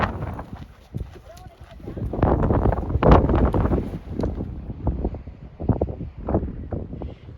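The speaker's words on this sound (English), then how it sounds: "It's been crazy windy today" Strong gusts batter the microphone in loud, uneven rumbling bursts, rising and falling for several seconds, with a voice partly heard beneath.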